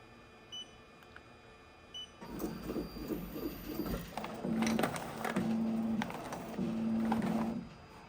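An embroidery machine stitches a cap on a test run, with a few soft beeps, then a mechanical whir and rapid rhythmic needle chatter broken by repeating tonal motor hums, close and moderately loud.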